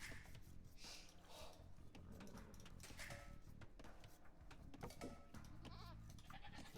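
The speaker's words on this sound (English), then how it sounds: "Sheep, that's nice." Sheep bleat in the strategy video game Age of Empires II, several short, wavering bleats scattered over a busy game background of soft clicks and ambience, moderately loud and without talk.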